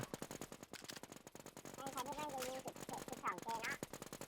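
Rapid bursts of video game gunfire crackle throughout, with dense repeated shots under excited shouting voices.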